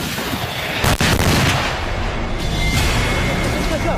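Simulated enemy bomb blasts and gunfire during Korean army combat training, a loud sharp crack followed by sustained rumbling battle noise with voices mixed in.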